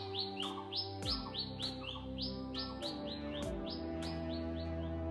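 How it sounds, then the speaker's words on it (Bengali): Forest birds in the Bandarban hills give repeated bright, rising chirps in quick succession over a steady, even background, with no voices. "অবশ্য পাখির আওয়াজও শোনা যাচ্ছে"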